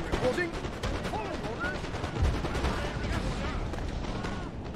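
Volleys of musket fire crackle through a Napoleon: Total War battle, dense overlapping shots rolling on continuously with a steady roar of combat behind them.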